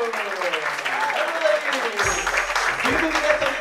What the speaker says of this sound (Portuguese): Então recebam com uma grande salva de palmas, por favor, o próximo comediante, Adilson Santos